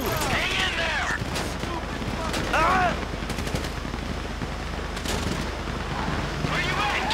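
Video game gunfire in Grand Theft Auto 5 crackles continuously in rapid automatic bursts amid a dense, chaotic battle, with voices shouting over the shooting.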